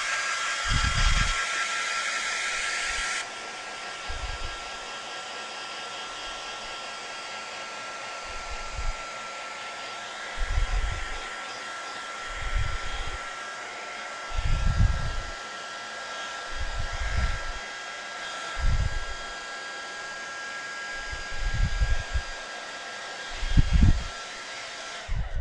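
A hair dryer runs throughout, a steady hiss and whir blowing loud at first and then quieter, with a series of low thumps and knocks heard alongside it.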